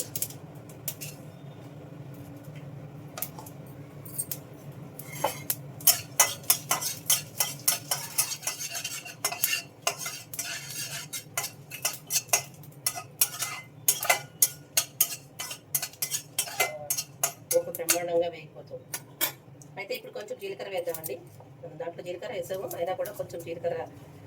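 A spoon repeatedly clicks and scrapes against a pan as mustard seeds, dried red chillies and urad dal fry in oil with a soft sizzle; a voice speaks in the later part.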